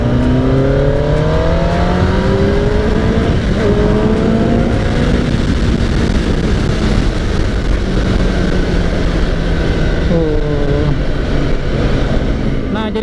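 A 2021 Kawasaki ZX10R superbike engine revving hard, a loud, continuous close-up roar with rising and falling pitch sweeps as the throttle is worked, some voices mixed under the engine noise.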